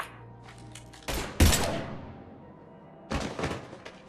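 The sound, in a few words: gunfire in Mass Effect 3 video game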